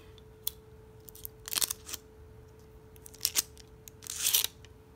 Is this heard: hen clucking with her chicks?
no